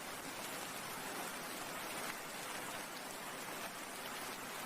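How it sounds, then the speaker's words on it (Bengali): Steady rain falls in an animated Bengali folk tale, a continuous, even hiss of drops on surfaces at close range with no letup and no voices over it. "বৃষ্টি থামার কোনো নাম নেই"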